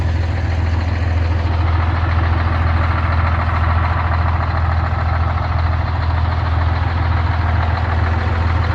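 Diesel engine of a 1984 Ford F9000 rollback truck idling steadily at close range, a deep continuous rumble with an even, unbroken drone and no voices.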